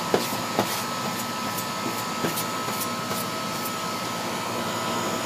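A central air conditioner, model H2RA030A08D, runs with a steady broadband whoosh and hum at close range, broken by a few soft ticks, with no talking.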